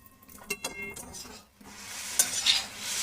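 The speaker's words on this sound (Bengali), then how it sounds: "এবার দেখো এটাকে পুরো ফ্রাই করে নিচ্ছে" Chowmein with no vegetables is stir-fried in a pan. It starts with quick utensil clinks and stirring, then after a brief lull a louder, steady hiss of frying rises, close and without talking.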